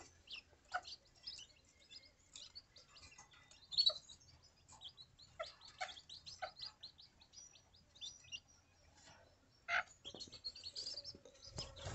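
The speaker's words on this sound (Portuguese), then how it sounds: "Tá aqui no viveiro dos passarinhos." Small birds chirp and tweet in scattered, overlapping bursts nearby, with quiet gaps between calls in an enclosed space.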